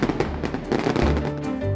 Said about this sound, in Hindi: वो पटाखे बड़ी जोर का शोर कर रहे थे, जैसे कि बड़े बम हो।